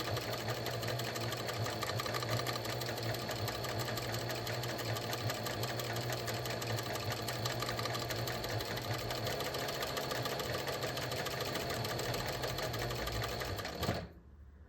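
Sewing machine stitching elastic onto lace panties, a fast steady rattling run held close and loud for about fourteen seconds before stopping abruptly.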